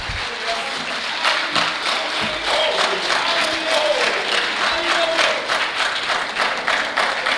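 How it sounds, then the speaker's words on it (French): An audience applauds steadily throughout at a reception honouring writers, dense clapping filling the room at a fairly even level from start to finish. "c'est un choix qui est applaudi"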